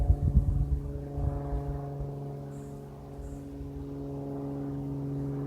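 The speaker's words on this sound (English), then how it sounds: "There's the cessna on my head, rotating." A Cessna light aircraft flies overhead with a steady droning propeller hum and strong engine harmonics, loud and continuous, swelling and easing slightly as it passes, with some low rumbling thumps early on.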